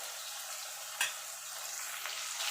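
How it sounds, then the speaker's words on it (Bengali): Shrimp frying lightly in oil in a pan, a steady soft sizzle with a brief clatter of stirring partway through. "চিংড়িটা এবার হালকা করে একটুখানি ভেজে নেব।"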